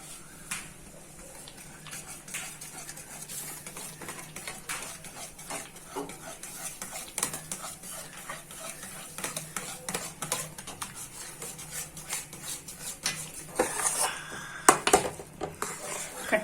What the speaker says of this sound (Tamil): அப்போ வந்துட்டு ரவை போட்டு கலக்கிக்குவோம்.